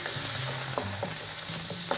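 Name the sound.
chicken and shallots frying in a pan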